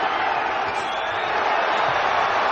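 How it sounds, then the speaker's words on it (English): Steady broadband roar of a boxing arena crowd during Saunders' attack on Monroe, a continuous dense wash of voices holding at even loudness throughout with no distinct cheers standing out. "and the crowd responding"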